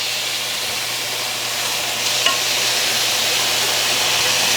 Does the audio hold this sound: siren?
no